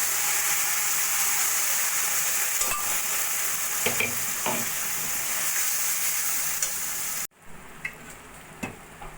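Boiled chana dal goes into a hot pan with raisins and spices, giving a loud, steady sizzle with scraping stirs, then it suddenly drops to a quieter simmer with a few light clinks.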